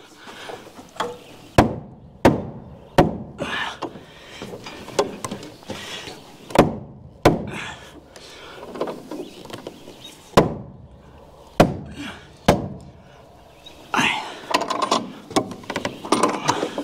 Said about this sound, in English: Hammer that in, tighten that up as I go.